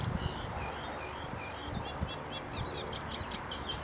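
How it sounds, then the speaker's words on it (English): Reed buntings call with short, high chirps scattered throughout, over a steady outdoor rustle and low background rumble, on a countryside walk between Glynde and Seaford. "Reed buntings in there"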